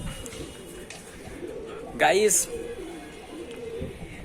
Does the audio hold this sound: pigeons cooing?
yes